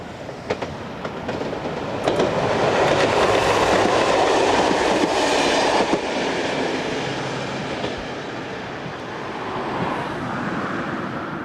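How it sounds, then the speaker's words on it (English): A Class Z11500 electric multiple unit on the Metz to Forbach local service passes close by, its wheels clattering over rail joints as the rumble swells, then fades as it recedes. "These services are operated by Class Z11500 units of the type seen here."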